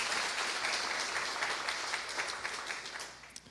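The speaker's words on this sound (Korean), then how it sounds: "다시 한번 큰 박수 부탁드리겠습니다" A forum audience gives a round of applause, dense steady clapping from many hands that thins out toward the end.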